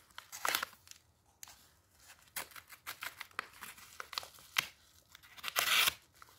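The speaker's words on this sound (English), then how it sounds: "So let's cut this open." A knife slicing and tearing through Pikachu Amiibo plastic blister packaging, with irregular crinkling, ripping bursts and a louder tear near the end, close and fairly quiet with no talking.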